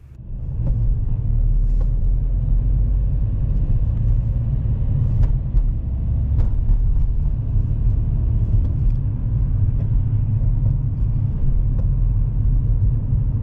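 A car pulls away during a driving test on a route leading to a roundabout, its engine rumbling low and steady from inside the cabin for the whole stretch, with small knocks and clicks scattered over the drone.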